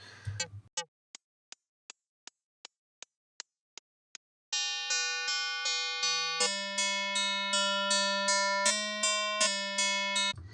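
Synth pad built in Serum, trying different filter types: a run of evenly spaced ticks gives way to sustained pulsing chord tones that shift in pitch, clean and alone.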